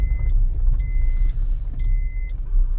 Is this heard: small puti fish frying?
no